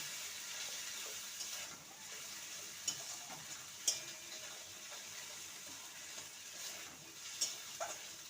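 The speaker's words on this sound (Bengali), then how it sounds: "সমস্ত উপকরণ ভালো করে কষিয়ে নেব" Spices cook with papaya and chana dal in a pan: a faint, steady sizzle with occasional soft clicks and scrapes from stirring.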